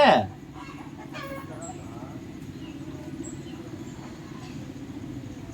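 Chickens cluck in a domestic yard, a steady low flock chatter with a brief louder call at the start, carrying on alone in the background.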